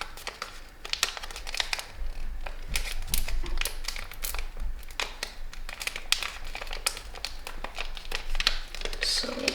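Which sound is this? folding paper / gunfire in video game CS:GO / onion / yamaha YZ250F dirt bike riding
folding paper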